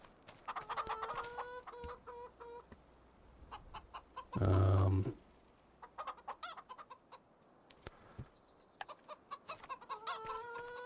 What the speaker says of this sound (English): The chickens are continuing to do chicken things.